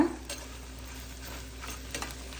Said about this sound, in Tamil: உப்பு உங்களுக்கு தேவைக்கேற்ற அளவு, அவ்வளோதான் போட்டு அதையும் நல்லா கிண்டிக்கோங்க.